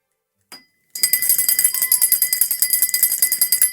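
A bell sound effect rings with a rapid, even series of bright metallic strikes, loud and close, following one short isolated tone.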